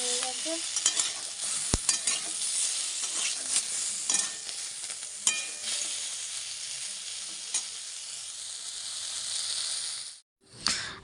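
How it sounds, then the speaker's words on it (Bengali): Eggplant sizzles and spits in a hot pan for several seconds, close and steady, with occasional clinks and stirring noises, then a brief drop-off near the end. "দেখো এখানটা আমার বেগুনটা ভাজা হয়ে"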